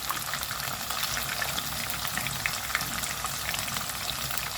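Tokwa, or tofu, fries in a pan for sisig with a dense, steady sizzle and crackle, plus scattered sharp pops throughout, heard up close with no talking.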